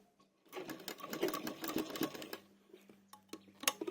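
Short, quiet burst of a sewing machine stitching a suit seam, a rapid whirring run of needle strokes lasting about two seconds, then slowing to a few soft clicks.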